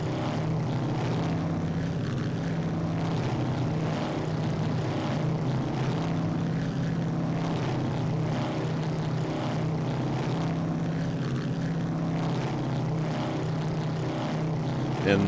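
Twin engines of a B-26K Counter Invader roar at takeoff throttle in the Strike Fighters 2 flight game, a loud continuous propeller drone that holds steady throughout, with a voice talking over it.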